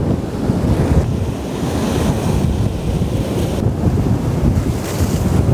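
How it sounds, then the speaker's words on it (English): Ocean surf rolls steadily toward the shore on a rising tide, a loud, continuous wash of breaking waves mixed with heavy wind buffeting the microphone, with no voices. "with the rising tide we have to be a little bit careful of these waves as they're coming up towards us"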